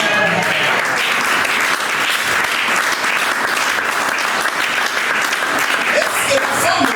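Church congregation at a Sunday service applauding, a dense, steady wash of many hands clapping continuously at even volume, filling the room without a break.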